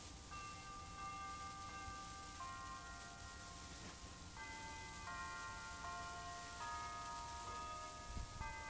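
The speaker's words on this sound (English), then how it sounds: "do you hear the church bells?" Church bells ring out a slow tune in the distance, several sustained tolling notes overlapping and fading, faint against a quiet background with no talk.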